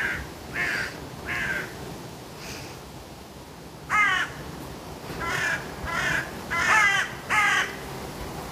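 Crows caw outdoors in short harsh calls, in twos and threes, separated by pauses, moderately near with a quiet background.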